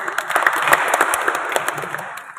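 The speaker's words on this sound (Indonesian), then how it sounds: "Kasih aplaus untuk grup 2." Audience applause for a student group at a church youth gathering, a dense burst of many hands clapping that runs steadily for a couple of seconds and then thins out toward the end.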